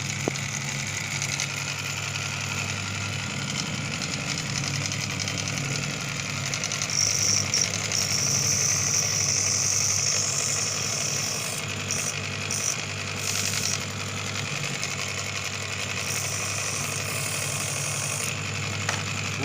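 A homemade bench grinder driven by a washing machine pump motor, its windings run at raised voltage, spins with a steady loud hum and droning rumble, joined by a thin whine in the middle that comes and goes.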